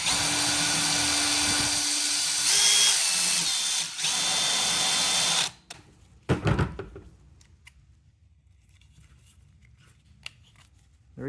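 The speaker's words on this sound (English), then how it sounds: "So you can see that the little stud comes out with it when you drill it out, which is what you want." A power drill fitted with a 3/16 bit drills out a stud during a Honda CRX climate control conversion, a steady close whir for about five seconds that shifts pitch midway, then stops, followed by a few faint clicks and taps.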